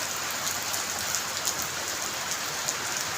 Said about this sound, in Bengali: খুব সুন্দর চমৎকার বৃষ্টি